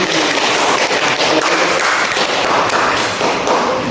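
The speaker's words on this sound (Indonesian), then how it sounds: "Baru kita kasih tepuk tangan." Students in a classroom applaud after a poetry reading in a microteaching lesson, giving a dense, even patter of many hands clapping for about four seconds without anyone speaking.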